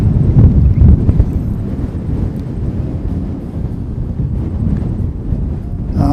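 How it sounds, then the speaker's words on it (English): Strong wind gusts buffet the microphone on top of a grassy bank beside an airfield, making a loud, continuous, low roaring rumble with no talking. "when you're on top of the bank, you can imagine it's pretty breezy."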